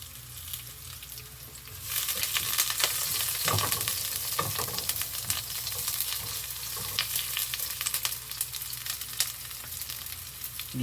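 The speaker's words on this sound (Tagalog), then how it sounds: "Gisa-gisa lang yan mga lods." Garlic and onion hit hot oil for ginisang upo, bursting into a loud, steady sizzle after a quieter start, with scattered stirring scrapes and clicks of a spatula against the pan, close and without voices.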